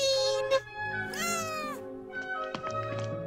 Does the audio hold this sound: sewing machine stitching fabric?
no